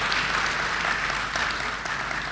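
A seated audience at a lecture claps together in a short burst of moderate applause, steady and slightly distant, with no voices over it.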